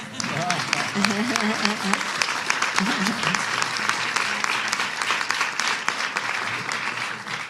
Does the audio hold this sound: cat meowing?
no